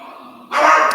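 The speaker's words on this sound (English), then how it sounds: "You hear my dogs?" A pet dog lets out a short, loud bark close by, following a brief stretch of quieter breathing-like sound.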